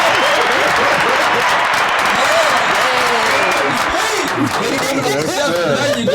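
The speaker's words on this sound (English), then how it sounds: "We gotta give ourselves a round of applause." A crowd at a lively community gathering claps and cheers in a loud, dense round of applause, with laughter and overlapping voices mixed throughout.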